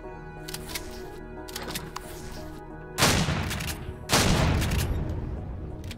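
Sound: shotgun firing in the video game Empyrion Galactic Survival

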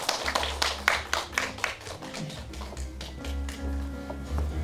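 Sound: audience applause at award ceremony

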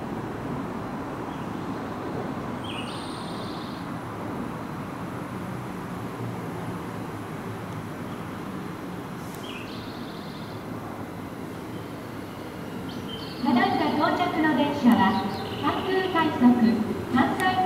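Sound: JR 223 series 2500 train arriving at Rinku Town station

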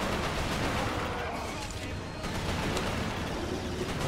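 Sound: gunfire in the video game Resistance: Fall of Man

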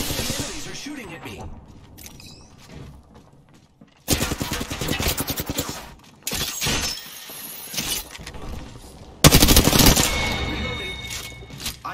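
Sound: gunfire in the video game Apex Legends

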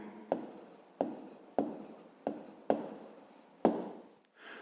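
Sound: writing down an answer by hand

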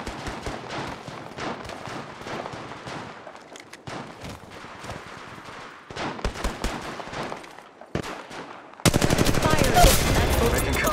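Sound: gunfire in the video game Apex Legends

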